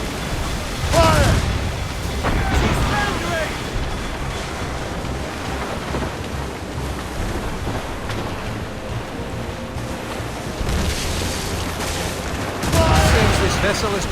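Cannon fire from a sailing warship in Assassin's Creed Rogue, heavy booming bursts at the start and again near the end, set against rolling ocean waves and wind, with shouted voices in between.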